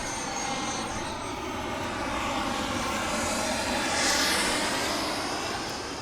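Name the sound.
airplane flying over golf course near airport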